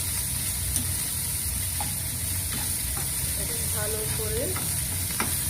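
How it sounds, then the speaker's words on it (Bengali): Lote (Bombay duck) fish pieces fry in a pan with chili powder and salt in a little oil, giving a steady close sizzle with occasional stirring scrapes, and a voice briefly speaks over it. "ভাজা হচ্ছে।"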